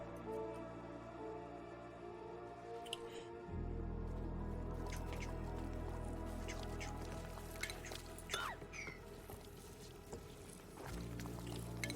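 Water vent erupting in the colony-building game Oxygen Not Included, a steady gushing, pouring rush with dripping splashes that swells in partway through and holds under soft game ambience.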